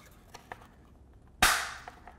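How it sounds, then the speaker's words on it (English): A single sharp, loud snap as hardware clicks into a Saris MP1 Nfinity bike rack wheel block, with a quick decaying tail and faint handling noises around it. "It's a nice, satisfying snap."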